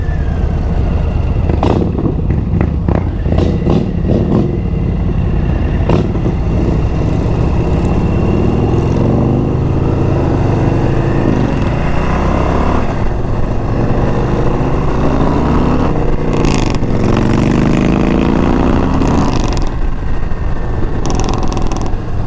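A 2022 Harley-Davidson Low Rider ST motorcycle is heard on a test ride as a loud, continuous engine rumble with rising and falling revs, broken by occasional sharp knocks and wind buffeting.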